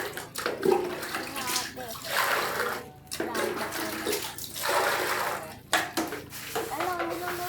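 Hot water poured over a native chicken to scald it, a steady splashing pour that swells and pauses over several seconds while people talk and exclaim throughout.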